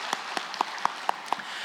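A short run of about six evenly spaced hand claps rings out in a church service, crisp and moderately close with quiet between them.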